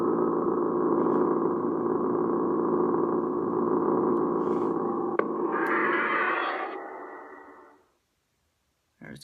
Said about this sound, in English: Just listen to that eerie hum